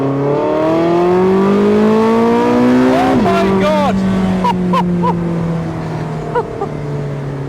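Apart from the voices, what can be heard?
Porsche 918 Spyder engine accelerating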